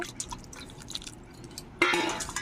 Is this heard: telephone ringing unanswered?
no